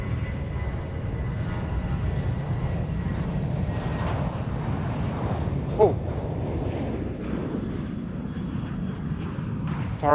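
A jet airliner engine roars at Sydney Airport, a steady, loud, continuous rumble with a broad rushing drone and a brief louder surge near the end.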